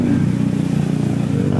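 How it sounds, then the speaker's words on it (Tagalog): Motorcycle engine idling with an extra rattle, a steady low rumble with a continuous clattering texture, close and loud. "Naiinis pa naman ako pag may narinig akong ibang tunog sa motor eh."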